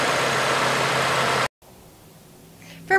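A Hyundai Veloster's 1.6-liter I-4 engine idles as a loud, steady hum for about a second and a half, then cuts off abruptly to quiet background with a faint tone near the end.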